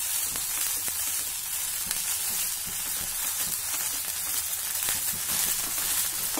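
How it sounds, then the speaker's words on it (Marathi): Thalipeeth flatbread dough cooks on a hot griddle with a steady, even sizzle that stays level and close for several seconds, with no talking. "थालीपीठाच्या मिश्रणाचा थोडा गोळा घेऊ, तव्यावर ठेवूया आणि ओल्या हाताने आपल्याला हे थालीपीठ थापायचं आहे"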